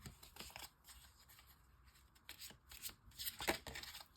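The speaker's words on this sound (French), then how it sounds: "je vais vous sortir une dernière carte de l'oracle des amoureux" Oracle cards for lovers are shuffled and drawn by hand, a soft close rustle and riffle with a few sharper flicks near the end, quiet and with no talking.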